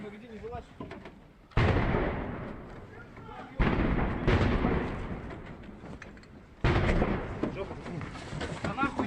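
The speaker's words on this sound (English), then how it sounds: "They actually sound a little bit like artillery." Three heavy booming blasts from the war in Ukraine, each a sudden roar that slowly rumbles away, like distant artillery. Faint talk murmurs in between.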